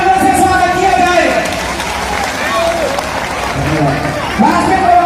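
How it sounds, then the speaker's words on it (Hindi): A crowd claps loudly in welcome at a Bharatiya Kisan Union (Tikait) gathering in Ranhera village, Jewar, with the applause mixed with cheering and voices talking over it throughout. "जोरदार तालियों से स्वागत किया जाए।"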